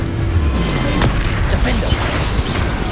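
Spell explosions from Bombarda and Confringo go off in the Hogwarts Legacy video game, a loud, dense series of booming blasts and crashes that runs without a break for the whole stretch.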